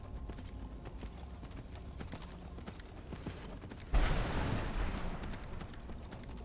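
Horse galloping in the video game Skyrim, a steady run of hoofbeats that jumps noticeably louder and brighter about two-thirds of the way through, carrying on to the end.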